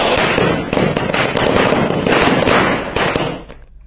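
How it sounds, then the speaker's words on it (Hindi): Firecrackers and fireworks set off at a political victory celebration in Uttarakhand, India, a dense, continuous barrage of loud crackling pops and bangs that thins out and stops near the end. "आतिशबाजी भी की गई है, पटाखे जलाए गए हैं और जश्न मनाया गया।"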